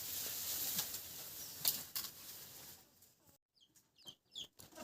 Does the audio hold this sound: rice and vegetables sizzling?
no